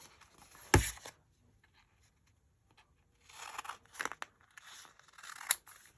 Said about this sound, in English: I'm going to cut the stars off.